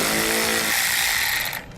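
A power tool spins off a 10mm bolt on a 2014 Jeep Grand Cherokee during base plate installation, a loud, steady high-pitched whir that holds for over a second before cutting off abruptly.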